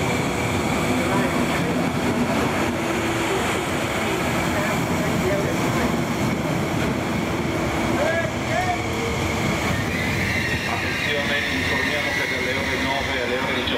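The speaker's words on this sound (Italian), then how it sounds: "Attenzione, treno in arrivo al binario 14." A train pulls in at platform 14 of an Italian railway station in Liguria, with steady broad rumble and rail noise throughout, a louder rise near the end, and a station announcement voice over the din.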